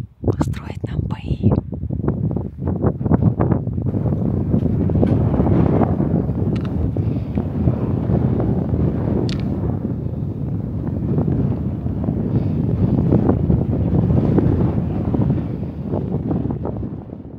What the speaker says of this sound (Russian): Идет дождь, ветер, кстати, еще сильнее, чем вчера.